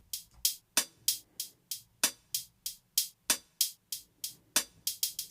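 Two different hi-hats trading in a programmed drum pattern, bright crisp ticks in a steady fast rhythm with a few quicker doubled hits, quiet and isolated.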